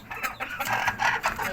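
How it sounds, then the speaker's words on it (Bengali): Desi hens kept on a home balcony cluck in short repeated bursts at close range, with no talk over them. "এই যে মুরগি,"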